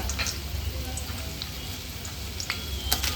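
Two large onions sizzling in hot coconut oil for a goat head curry, a steady soft crackle and spatter with faint scattered pops, fairly close and even throughout.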